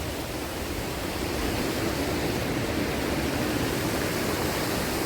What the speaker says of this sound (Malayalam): ഇവിടുന്ന് ഇങ്ങനെ ഈ വെള്ളം ഒഴുകുന്ന നേരെ പെരിയാറ്റോട്ട് ഒഴുകുന്ന